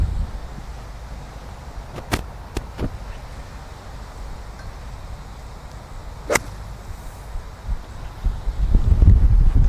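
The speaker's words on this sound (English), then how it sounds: "Man, that wind's strong." Strong outdoor wind buffets the microphone with a constant low rumble and hiss, broken by a few sharp snapping gusts and swelling louder toward the end.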